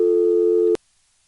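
Steady dual-pitch tick-tock tone from a 1977 EAX local/toll telephone switch in Rock Hill, SC, holding loud and even, then cut off abruptly by a click and followed by near silence.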